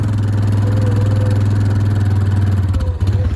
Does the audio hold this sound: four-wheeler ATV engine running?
yes